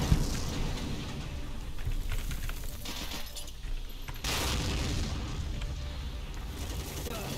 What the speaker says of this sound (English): No, that's a tank that's shooting me.